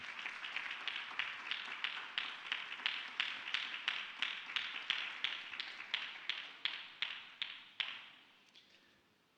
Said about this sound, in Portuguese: Você pode aplaudir ao Senhor por esta palavra?